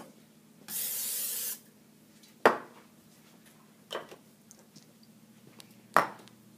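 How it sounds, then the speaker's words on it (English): Non-stick cooking spray hisses from a can onto a frying pan in one steady burst of about a second, followed by a few light metallic clinks and taps in a quiet kitchen. "Spray the frying pan with non-stick cooking spray."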